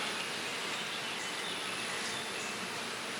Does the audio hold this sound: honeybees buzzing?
yes